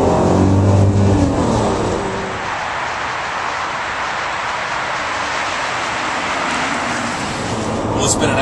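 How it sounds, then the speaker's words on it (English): 2008 Lamborghini Murcielago LP640 in orange, heard from inside the car on the road: a loud engine note with strong low tones in the first two seconds, easing into a steady, sustained drone of engine and road noise. "it's been an absolute pleasure to take you for a ride in the 2008 Murcielago"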